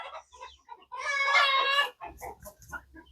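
Chickens cluck and squawk close by, with one longer raspy call in the middle followed by short clucks.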